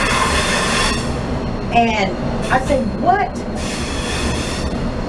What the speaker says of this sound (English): Y'all excuse that train.